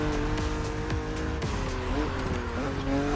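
A BMW Z roadster in The Crew Motorfest drones steadily at high revs, its engine pitch rising and dipping through gear changes, loud and continuous, without anyone talking.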